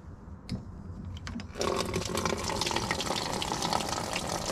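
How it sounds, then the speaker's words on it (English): A few clicks and knocks, then rainwater begins pouring steadily into a small washing machine tub, a constant splashing rush that continues to the end. "we are using rain water to fill up the washer."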